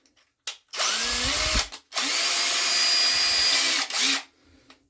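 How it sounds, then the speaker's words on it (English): A power drill bores a pilot hole for a jigsaw blade during a vessel sink install, two loud steady whirring runs close by with brief pauses and a short spin-up between them. "But first I got to drill my hole there so I can get my blade down into it."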